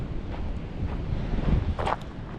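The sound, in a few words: wind blowing near the San Francisco beach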